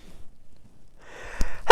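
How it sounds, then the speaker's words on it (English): A single sharp sneeze close to the mic, with a short breathy intake just before it and near silence before that, set among a Magic: The Gathering card sorting session. "I got sneeze."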